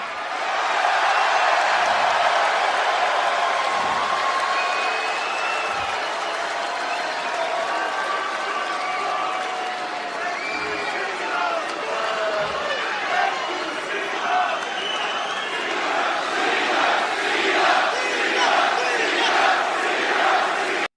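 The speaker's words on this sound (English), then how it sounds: "You got the crowd cheering for him." Dense wrestling arena crowd cheering for John Cena, a sustained roar of applause and shouts filling the whole span, with chants and whoops swelling louder toward the end.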